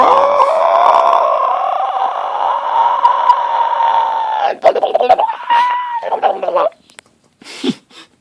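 A voice imitates a mighty battle cry, a long, loud, sustained howling yell that breaks into rougher shouts and then trails off with a short cry at the end.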